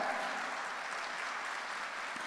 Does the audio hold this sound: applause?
yes